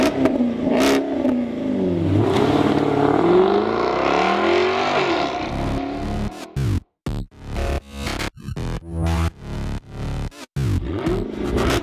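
A 2014 Jaguar XKR-S engine revs hard and accelerates with a loud, rising roar, then barks through a rapid series of sharp gear-change blips and bursts, close and loud with no talk.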